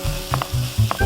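Kimchi stir-fried with tuna and green onion in a pan: close, steady sizzling with short scraping stirs of a utensil against the pan, no voices.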